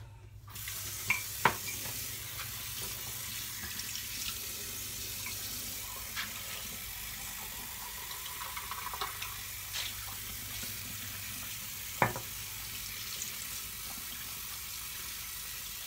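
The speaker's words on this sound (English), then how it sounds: "I know you guys don't like the running hot water." Hot water runs steadily from a bathroom tap into a sink during a shave. It makes a constant close-up hiss and splash, with a few small clinks from handling items. No one speaks.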